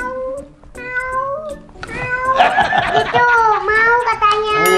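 A young child imitates a cat meowing to ask for food, with a string of high, wavering mewing cries that grow louder and more insistent, close to the mic, while laughter and other voices join in.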